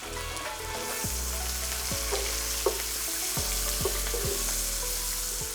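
Dry red chilies, green chilies and curry leaves sizzle steadily in hot oil for a masala prawn dish, with a continuous crackling fry and a few brief stirring knocks, close and alone without talk.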